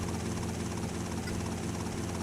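Helicopter flying in GTA Vice City Stories, a steady, dense rotor and engine drone that holds level and loud for about two seconds with no talk over it.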